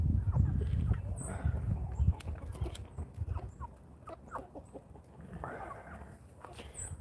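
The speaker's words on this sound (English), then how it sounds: "we have a bunch of them in the cage, and they're chickens with mohawks" Chickens with mohawk crests, a group kept in a cage, cluck and squawk in short scattered calls over soft rustling and pattering, fairly close.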